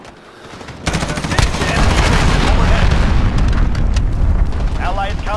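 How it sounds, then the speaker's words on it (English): A cruise missile strike in the Modern Warfare beta hits with a sudden loud boom, then a dense, continuous roar of explosions and rattling gunfire. Radio-style voice callouts sound faintly underneath. "Allied cruise missile launch."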